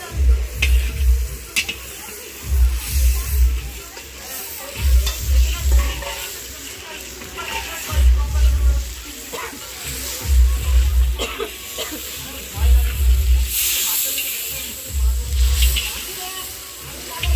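Ginger paste and spices frying in a pan, a steady sizzle broken by repeated rhythmic stirring scrapes about every two seconds, close and fairly loud, with no talk.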